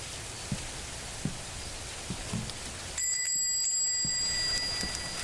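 Continuous rain hisses in the Meat Game with faint scattered drop taps, and midway a high electronic tone rings out over the downpour for a couple of seconds.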